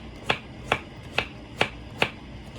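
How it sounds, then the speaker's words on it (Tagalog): Five evenly spaced knife chops slice through zucchini on a cutting board, crisp, close and clear with no talking. "So slice ko na yung zucchini."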